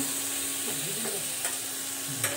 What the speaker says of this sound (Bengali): তো দেখো এখানে চিংড়িগুলো ভাজা হচ্ছে।